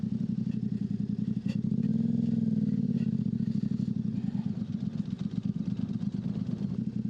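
On an off-road trail ride, a motorcycle engine fires back up and idles with a steady low chugging rumble, swelling briefly as the throttle is blipped, then settling into an uneven idle nearby.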